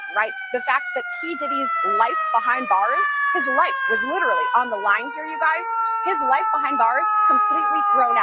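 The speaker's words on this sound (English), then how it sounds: "You can hear sirens" Sirens on a busy Manhattan street outside a courthouse, a steady wailing tone sliding slowly downward throughout, heard under a reporter talking continuously.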